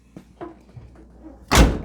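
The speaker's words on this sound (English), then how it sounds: "door seems solid. Closes solid." Door of a 1987 Buick Grand National slams shut with a single loud, solid thud near the end, after a quieter stretch of faint handling noises and rustle.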